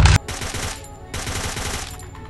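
Gunfire in a mobile shooting video game opens with a loud, sharp blast, followed by a rapid stream of automatic shots that dips briefly in the middle, then picks up again.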